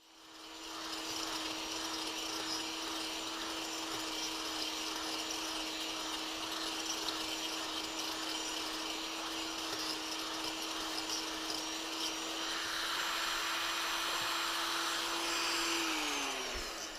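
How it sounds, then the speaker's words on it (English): A power tool grinds steadily on the stem of a chainsaw-carved wooden morel mushroom, giving a continuous high whine and rough abrasive hiss that holds for about fifteen seconds before spinning down. "just do a little bit of grinding on the stem portion"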